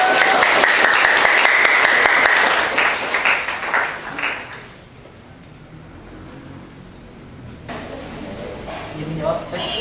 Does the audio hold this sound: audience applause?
yes